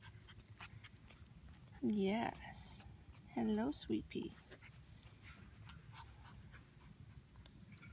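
Three-week-old puppies in a litter of five whimper and pant softly, lying near their mother. Short, high whimpering bursts rise over a low panting background, while someone talks gently to them.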